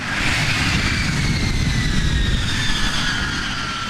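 An F-35 fighter jet flying overhead, a loud steady roar of jet engine noise with a broad rushing rumble and a faint high whine that slowly shifts in pitch.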